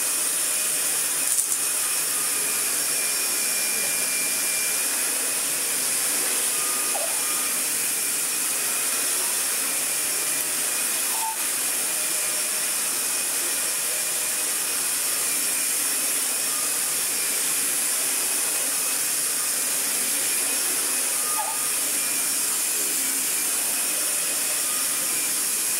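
A restored Dyson DC41 upright vacuum cleaner running on max power, a steady loud whine with an even airflow roar that holds without a break for the whole stretch.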